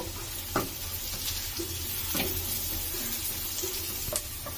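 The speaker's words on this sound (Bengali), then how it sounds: "1 মিনিট ফ্রাই করে নিব।" Carrots and capsicum frying in a pan for vegetable fried rice, a steady loud sizzle with a few sharp stirring scrapes, no voices.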